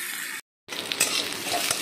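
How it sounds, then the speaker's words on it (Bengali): Onions frying in oil for a rohu fish curry, a steady close sizzle with a brief silent gap before the frying resumes, alone without talk. "পেঁয়াজটা একটু ভাজা ভাজা হয়ে গেছে"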